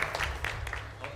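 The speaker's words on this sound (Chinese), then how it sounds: "再次拍掌，把荣耀归给神" A church congregation at a youth worship service claps their hands together in a loose, continuous patter of many hands, moderately loud in a room, with voices mingled in.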